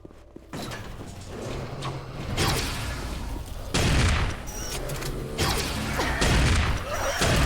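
A shotgun in the video game Dreamkiller fires in loud, booming blasts with mechanical clacks, layered over dense game action noise that continues throughout.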